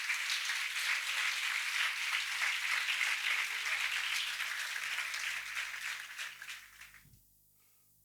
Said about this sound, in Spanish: Y le dan un aplauso a Jesús por eso.